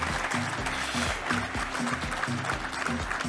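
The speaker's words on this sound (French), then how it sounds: "je pense qu'on peut vous applaudir pour cela" Audience applause at a prize-giving ceremony, a steady dense wash of clapping that fills the whole stretch at a constant level with no voices on top.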